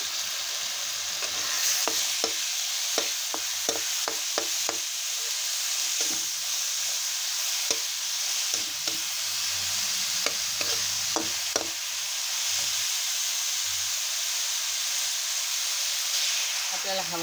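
Washed moth beans for misal sauté and sizzle in a pan with salt, a steady frying hiss broken by clusters of spatula clicks and scrapes, and a voice talks faintly at times.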